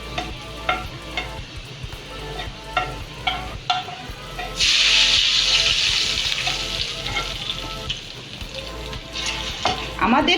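Chicken curry with fried onions cooks in a pan, starting with intermittent scraping stirs and soft sizzle, then a sudden surge of loud steady hissing midway as more goes in, easing toward the end.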